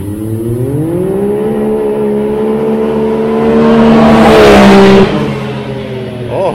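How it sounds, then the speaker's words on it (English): A big-turbo car with a Treal exhaust makes a four-wheel-drive launch toward 60, its engine note rising steadily through a long loud pull before cutting off abruptly, with wind roar building near the end. "Here we go. Four-wheel drive launch."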